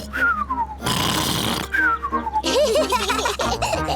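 A cartoon voice imitates loud snoring for Uncle Pig in a Hindi Peppa Pig episode: two long rasping snore breaths, each followed by a falling whistled exhale, then a burst of snorting grunts near the end.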